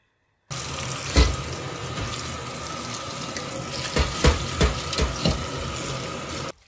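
Bathua greens are rinsed under a running tap, giving a steady close rush of water with splashy bursts and thumps as the leaves are handled, starting abruptly and stopping near the end.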